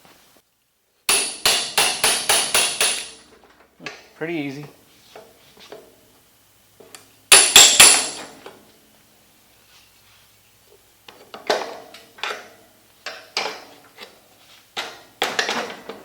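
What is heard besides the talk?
hammer knocking wood out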